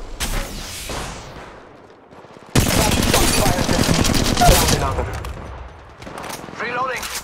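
Rapid gunfire in Apex Legends Mobile ranked play: scattered shots at first, then a long loud burst of automatic fire with heavy impacts, followed by further shots, with game character voice lines between.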